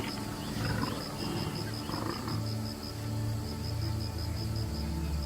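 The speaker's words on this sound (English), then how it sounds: "a roar tears through the silence, echoing across the parched grasslands." A lion roars across parched grasslands, deep rumbling calls rolling in long waves under a faint steady high whine, fairly loud and sustained with no voices.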